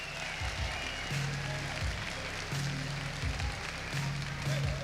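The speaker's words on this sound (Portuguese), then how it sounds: "mais salva de palmas para o doutor Rondó" Audience applause fills a lecture hall for Dr. Wilson Rondó Júnior, a steady broadband patter of clapping with a voice speaking over it throughout.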